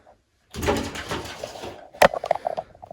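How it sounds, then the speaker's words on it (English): A starling trapped inside a bathroom wall scrabbles in bursts, with muffled knocks and a sharp close scrape partway through, heard alone without talk. "You can hear that activity. That's probably a bird, more than likely, trying to get itself back out."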